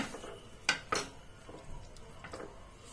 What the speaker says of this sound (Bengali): সো দেখুন এরপরে আমি একটু নেড়ে দিচ্ছি